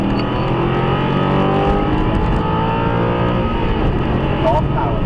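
A supercar engine accelerates on a wet track, a loud, steady, close roar that builds under power while an instructor talks alongside.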